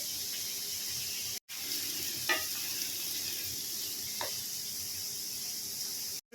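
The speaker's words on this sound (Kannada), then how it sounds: "ಈಗ ಕಟ್ ಮಾಡಿ ಇಟ್ಕೊಂಡಿರೋ ಕ್ಯಾಪ್ಸಿಕಮ್ ಹಾಕ್ತಾ ಇದ್ದೀನಿ" Chopped capsicum hits a hot pan and sets off a steady sizzle for vangibath, with two short spoon scrapes and a sudden cut partway through.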